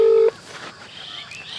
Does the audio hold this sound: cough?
no